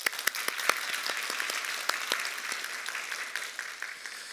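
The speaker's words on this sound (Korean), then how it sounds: "오늘 성가대 찬양 너무 은혜롭게 감사하게 이러한 성가대를 주신 하나님께 영광의 박수 우리 올려드리겠습니다" A church congregation at a Sunday service applauds the choir, with sharp individual claps standing out over a moderate, steady patter of hands.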